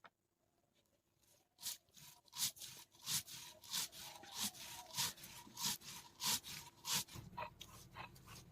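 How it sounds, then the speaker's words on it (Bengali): Mustard seeds being ground on a stone for a pumpkin fritter dish: a run of rhythmic, close rasping strokes, roughly a dozen back-and-forth scrapes, each loud and gritty, with no talking. "এবার কুমড়োর চাকতির জন্য আমরা এখন সর্ষে বেটে নেব।"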